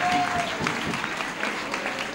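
A studio audience claps through a live Italian variety show, a brief, fairly loud burst of applause that stays even, with some overlapping speech.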